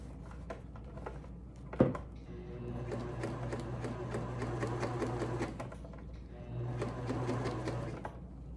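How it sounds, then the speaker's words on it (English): A sewing machine stitches a shoulder strap on a lined bridesmaid dress, running in two steady bursts of several seconds each with a pause between, close and clear after a short handling knock. "And I'm just sewing a little bit because I've got to pull the strap."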